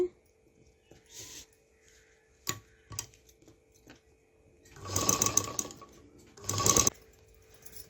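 A sewing machine stitches a zipper onto an old raincoat, running in two loud whirring bursts near the end. Quieter clicks and brief short runs come before them.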